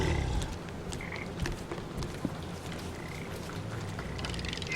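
Frogs croaking in the video game Papo & Yo, scattered short croaks and clicks over a steady ambient game background, moderately close, with no speech.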